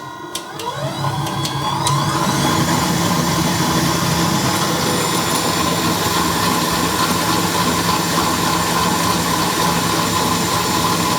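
A KitchenAid Commercial 8 stand mixer starts up and runs with a steady, fairly quiet motor whir and hum, close by and continuous after a brief start.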